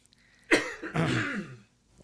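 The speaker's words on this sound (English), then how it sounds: "There we go. Good cough." A single cough, sharp and fairly close, followed by a longer rasping throat-clearing, then quiet.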